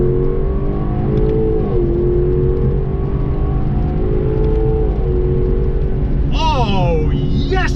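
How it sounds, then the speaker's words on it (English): Lexus LC500 with a 5.0L V8 pulls hard through its gears, the note rising and dropping with shifts, loud and continuous, ending with a high-pitched whine over the rumble as a voice exclaims. "there's something else that wants to make its voice known. That's the engine up front."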